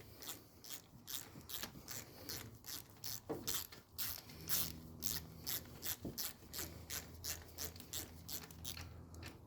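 A ratchet clicks in quick repeated strokes while tightening a fitting and crushing its washer on a Honda Civic's VTEC solenoid and oil pressure sensor, steady pawl ticks running close and clear throughout.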